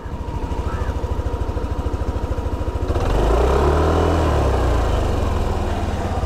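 A Yamaha Aerox 155 scooter from 2022 idling close up, its exhaust giving a steady, fast putter that swells midway into a fuller, louder rumble and holds there.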